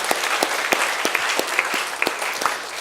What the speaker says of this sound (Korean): 감사와 영광의 박수, 또 축하의 박수.